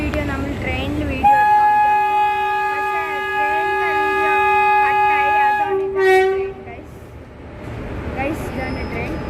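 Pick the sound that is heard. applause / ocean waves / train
train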